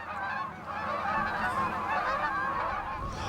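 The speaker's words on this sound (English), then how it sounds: "If the goose is honking, you're honking." Geese honk in a dense overlapping chorus at a hunting spot, a steady stream of calls at moderate distance with no talk.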